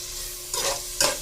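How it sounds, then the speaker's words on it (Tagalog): Tomatoes sauté in a pan for salmon sinigang: a low background sizzle with two quick, close stirring scrapes about half a second apart. "Ayan, gisa-gisa lang yan."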